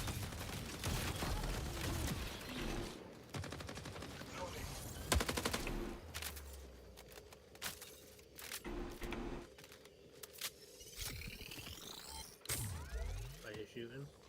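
Gunfire in the video game Conquest Dark comes in scattered sharp bursts and single cracks, some loud and some more distant, with people talking over and between the shots.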